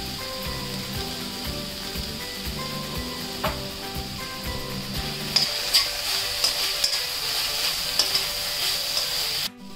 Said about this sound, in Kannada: ಎಲ್ಲ ಚೆನ್ನಾಗಿ ಹೊಂದ್ಕೊಳ್ಳೋ ತನಕ ಒಂದು 2 ನಿಮಿಷ ಈ ತರ ಕೈ ಆಡಿಸಿ